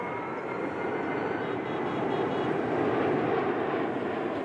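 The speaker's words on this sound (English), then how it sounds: "flying this Lockheed C-130 air tanker right now" A Lockheed C-130 air tanker in flight, its turboprop engines giving a steady, dense drone that stays constant throughout, heard alone.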